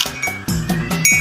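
Small hard round lumps of tea drop into a glass one after another, giving several bright clinks in quick succession.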